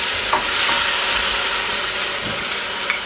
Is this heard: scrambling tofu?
yes